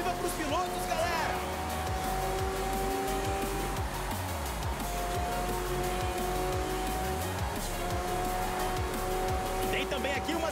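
Race cars roar past in Forza Horizon 4, engines revving and shifting over a busy festival crowd, with tire squeal and cars passing by under a commentator's steady talk.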